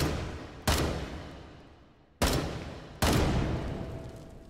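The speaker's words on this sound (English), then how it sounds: "So this gun's got single fire mode" Three sharp single gunshots from a rifle set to semi-automatic in H3VR, spaced irregularly, each a loud crack with a ringing decay and no talk.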